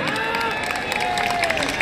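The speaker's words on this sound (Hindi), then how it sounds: "कौन कौन करेगा तालियों से स्वागत बताइए।" A crowd at a Congress political rally in Seelampur claps and cheers in a dense, steady wash of applause mixed with shouting voices, loud and continuous throughout.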